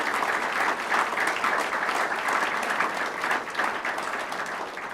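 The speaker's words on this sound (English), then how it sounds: "If we could have one last round of applause for our 3 elected officials today" A ceremony audience applauds three elected officials at an oath of office event, steady sustained clapping from a full room lasting throughout at an even, moderately loud level.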